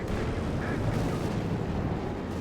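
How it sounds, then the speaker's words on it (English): A Panzerwerfer rocket artillery barrage in Company of Heroes 2, heard as a dense, continuous roar of rumbling blasts and whooshes that stays loud throughout. "Another Panzerwerfer barrage here from Duffmann against fixed positions."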